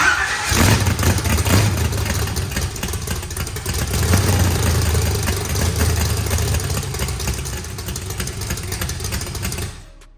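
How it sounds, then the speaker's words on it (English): A car engine cranks, catches and runs, staying loud with a rough, revving mid-range roar for several seconds before cutting off near the end. "Okay, hit starter."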